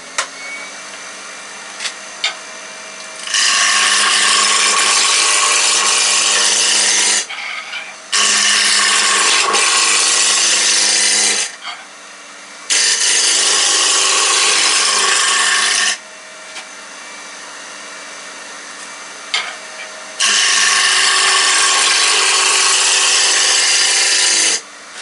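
Fir turns on a Record Power wood lathe at 1500 rpm. A steady machine hum underlies four loud bursts of tool-on-wood cutting, each lasting several seconds, with quieter gaps between them.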